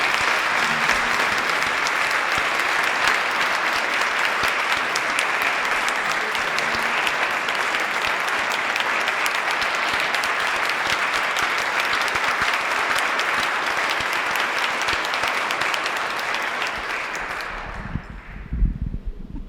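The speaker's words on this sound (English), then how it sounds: "Let's give them another big round of applause." An audience at a Rotary club meeting speech contest applauds loudly and steadily for about seventeen seconds, a dense close clapping wash that tapers off abruptly at the end into quiet room noise.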